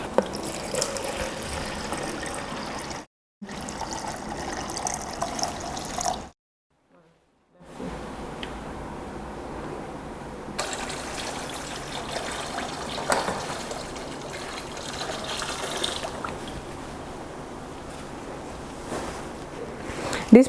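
About 1.1 liters of water pours steadily into a measuring cup for a homemade hand sanitizer, a continuous splashing trickle that stops briefly twice before resuming.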